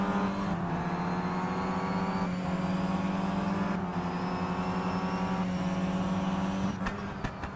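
2011 WTCC Volvo and Chevrolet touring cars racing in the game Simraceway, a steady loud engine drone with gear shifts that rise and drop, close and continuous, with no talk.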